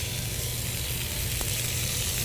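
Venison chops hit a hot skillet over a grill and sizzle steadily, a continuous close crackle and hiss with no one talking.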